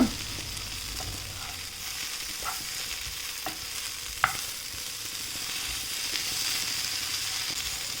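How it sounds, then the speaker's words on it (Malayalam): Bitter gourd frying in a pan with only a little oil, a soft even sizzle with a few sharp scrapes and taps of a spoon against the pan, no talk. "ഇതൊന്ന് ഫ്രൈ ആയിട്ട് തന്നെ വരണം നല്ല രീതിയിൽ അധികം എണ്ണയില്ലാതെ തന്നെ ഇങ്ങനെ ഫ്രൈ ആയിട്ട് വരണം"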